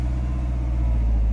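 A Peugeot 405 Turbo 16 with 161,000 km, after a rocker cover gasket and timing belt replacement, runs at a steady, loud idle with a low, even rumble throughout.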